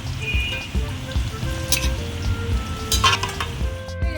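Potatoes frying in a pan, a steady close sizzle with crackling bursts and a few soft stirring scrapes throughout.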